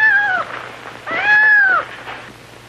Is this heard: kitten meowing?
yes